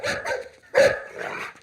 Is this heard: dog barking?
yes